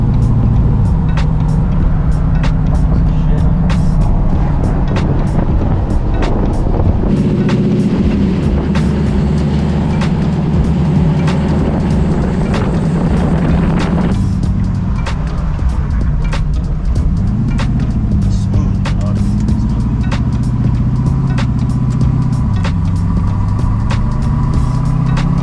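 A slammed 1972 Chevy C10 pickup with a supercharged LS3 V8 swap drives along, its engine droning loud and steady with shifting revs, road rumble and rattles, heard from inside the cab.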